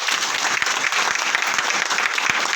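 An audience at a company gathering breaks into loud, sustained applause, dense clapping that fills the room from start to finish with no voices over it.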